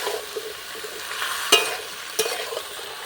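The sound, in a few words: water lily stems stirred and cooking in a wok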